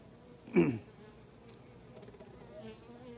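A brief buzzing of honey bees at a hive entrance swells close by, then fades into a faint, steady hum of insects in the background.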